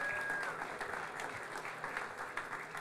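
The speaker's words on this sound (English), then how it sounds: "Let's have a round of applause for our sponsors." Guests at an evening reception for the Artist & Athletes Alliance give a round of applause for the event sponsors, a steady wash of moderate clapping from a roomful of people.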